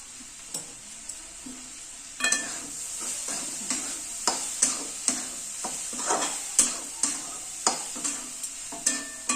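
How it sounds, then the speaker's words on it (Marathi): Okra stir-fried in a pan with peanut powder: a constant bright sizzle with regular, rhythmic spatula strokes scraping the pan about once a second, close and clear, with no voices. "छान अशी मस्त आपली भेंडी परतलेली आहे"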